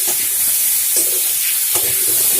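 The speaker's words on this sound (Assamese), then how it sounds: "এতিয়া মই এইখিনি অলপ লৰাই" Potatoes being stirred in a hot pan while fish curry cooks: a steady, close sizzle and hiss, broken by a few soft scraping strokes from the spoon.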